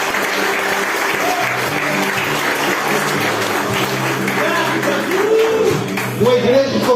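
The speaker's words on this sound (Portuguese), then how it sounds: "Dá salve de palmas para o Senhor." A church congregation claps during a worship service, a full room of hands beating steadily while a voice speaks over the clapping and music tones rise faintly underneath.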